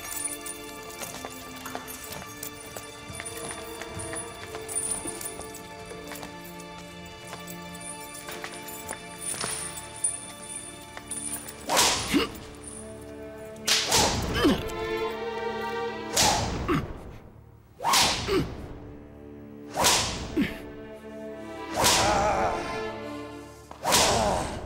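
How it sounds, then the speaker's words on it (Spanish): Whip lashes strike a prisoner in a punishment scene set in ancient Egypt, heard as a series of loud, sharp cracks in steady succession over a background music bed. "¿Cómo puede soportar los latigazos?"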